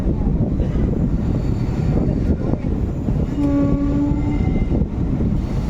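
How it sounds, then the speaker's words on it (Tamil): A train rumbles steadily past on a sharply curving track, loud and close, with a horn sounding briefly midway through the continuous roar. "வேறு லெவலில் வளையுது போகும் ட்ரெயின்"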